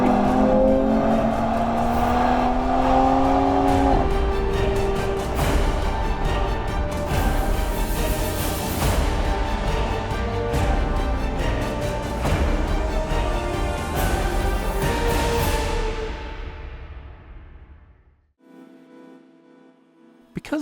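A 2019 Mercedes-AMG E53 Coupe drives hard through tight corners on an Australian road, its engine note loud and steady with rising and falling revs, then fading sharply away near the end, with no talking.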